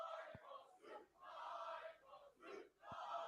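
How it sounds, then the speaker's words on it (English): A wrestling crowd chants for Lykos in rhythmic, swelling waves of massed voices that rise and fall, heard from a distance and fairly faint, with a couple of sharp thuds under the chant. "You can hear the crowd chanting for Lykos, too."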